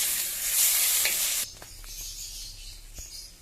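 Sliced tomatoes sautéing in a hot pan for a makhana (lotus seed) curry, with loud broadband sizzling for the first second and a half that then drops to a quieter hiss with a few soft stirring clicks.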